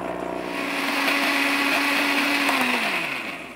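A blender blitzing a sweet and sour sauce of chilies, vinegar and sugar, a steady loud whirring roar that holds for a few seconds and then winds down at the end.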